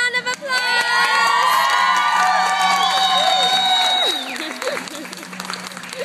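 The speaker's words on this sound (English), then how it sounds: "Everybody give him a round of applause." A lively group, including children's voices, bursts into loud applause mixed with shrieks, whoops, and rising cheers. The noise holds strong for about four seconds before easing into softer clapping and chatter.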